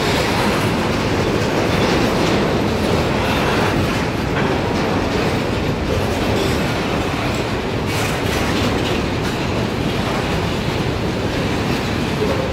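Freight train rolling past at close range through Jaraguá do Sul, a steady loud rumble of wagons with rhythmic clickety-clack of wheels on rail joints, continuous with no talk.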